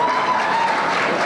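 A crowd at a GTA West leadership gathering applauds in a dense, loud, continuous wash of clapping that fills the brief moment without a break.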